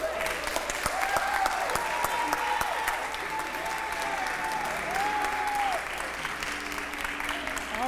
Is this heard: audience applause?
yes